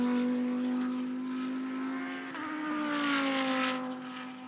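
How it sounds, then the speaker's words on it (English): GT race cars leave the pit lane at Phillip Island during a GT World Challenge Australia race, with a loud droning engine note that shifts pitch as a car passes close by. "They leave from pit lane, which got our attention out the commentary box window as they leave."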